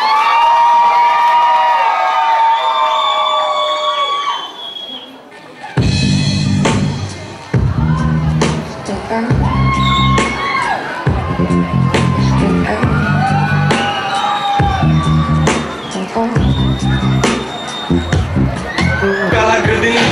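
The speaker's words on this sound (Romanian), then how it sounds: "Aplauze! Și urăm succes!" Audience at a school freshmen's ball cheering and shouting over loud music with a heavy beat, preceded by a few seconds of brighter cheering before the music kicks in.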